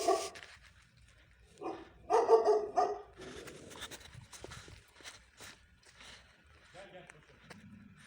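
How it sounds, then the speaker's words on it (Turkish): A dog barks a few times from inside a house in Burdur, Turkey, with scattered sharp yelps while people talk quietly nearby. "Köpek şu anda içeriden havlıyor. Havlamaya devam ediyor."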